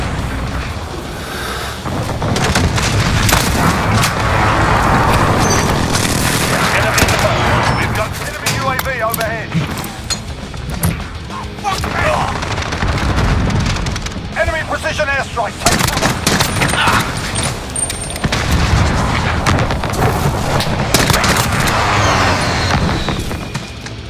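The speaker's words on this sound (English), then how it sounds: "Friendly position airstrike on the way." Dense battlefield din from Modern Warfare, with bursts of gunfire and booming airstrike explosions rolling through a loud, continuous mix, while voices call out over the combat.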